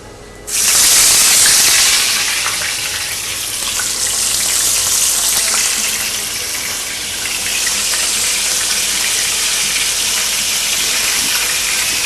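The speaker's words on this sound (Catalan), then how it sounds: "Posarem les altres dues a fregir." Flour-dusted monkfish tails are laid into hot oil, setting off a loud, sudden burst of sizzling that settles into a steady close hiss and crackle with no voices over it.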